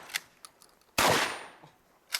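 A single loud, close shotgun blast at an action shooting match, with a sharp crack and a long ringing decay, preceded and followed by faint clicks.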